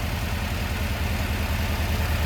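A freshly built Volkswagen 2021cc stroker engine running at a steady idle, a loud, even, continuous mechanical rumble with a constant low throb and no voices.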